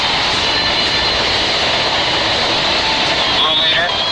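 A Garfield toy airplane gives off a steady, loud droning engine roar meant as takeoff noise. It runs continuously throughout with a slight rise near the end, and a voice is present over it.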